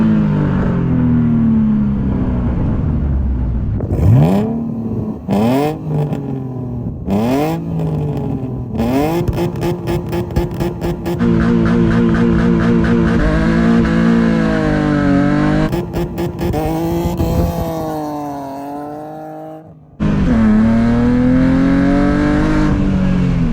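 A BMW E46 wagon with a new engine and custom exhaust revs hard and close, in repeated rising and falling blips with crackles between them, then longer sustained pulls.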